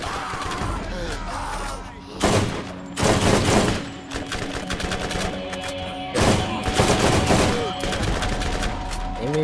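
Gunfire in the shooter video game Borderlands, with loud bursts of rapid shots in two clusters over a busy game mix, and voices heard around them.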